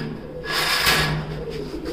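Fancy pigeons at a pigeon farm in Natore, including a local black lakkha pair, give soft low cooing over a steady background hum; the calls are nearby and moderately loud, with no one speaking.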